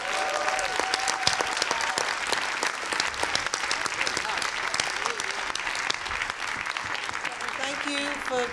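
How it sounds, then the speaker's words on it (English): Sustained, dense applause from a festival audience after a Spokaoke performance, many hands clapping steadily for several seconds with a few faint tones in the background. "give a massive round of applause to everyone who participated in the Spokaoke"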